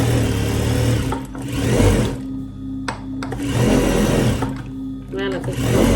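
Sewing machine running steadily while stitching around a piece, a loud continuous motorized hum with brief pauses, with a person talking over it.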